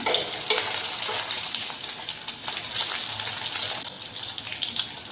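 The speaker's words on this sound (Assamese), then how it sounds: "তেলখিনি গৰম হোৱাৰ পাছত এয়া ব্ৰেড আৰু আলুৰ লাডুকেইটা এনেকৈ ফ্ৰাই কৰি ল'ম" Bread and potato balls fry in hot mustard oil in a kadai, giving a steady close sizzle with bubbling crackle that runs continuously without pause.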